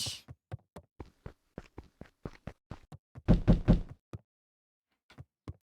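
Knocking on a door in Beacon Pines, a string of quick, sharp wooden raps in irregular clusters, with a louder run of heavier thumps near the middle before a few final taps, close and clear with no talking.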